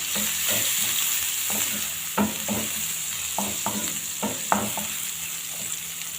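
Minced garlic and a rice filling fry in a pan while being stirred, a steady sizzle broken by a series of scraping, clattering utensil strokes at an uneven rhythm.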